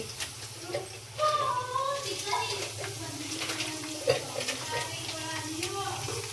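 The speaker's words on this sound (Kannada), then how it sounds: "ಈರುಳ್ಳಿ ಗೋಲ್ಡನ್ ಫ್ರೈ ಆಗಿಲ್ಲ ಫ್ರೈ ಆಗ್ತಾ ಐತೆ" Onions frying in a pan for a home-cooked biryani and kebab meal, with a steady sizzle and occasional stirring scrapes running through the whole stretch while a voice talks faintly in the background.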